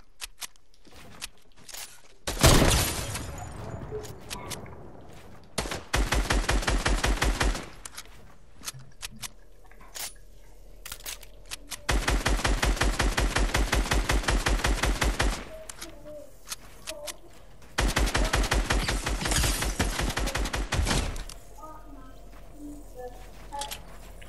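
Rapid automatic gunfire in a video game comes in several long bursts of fast, sharp shots separated by short quieter gaps, with a few isolated single shots in between.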